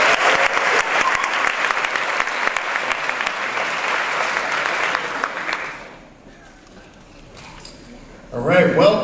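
A crowd applauds steadily for several seconds at a school new-year welcome speech, then the clapping fades out and a voice begins speaking near the end.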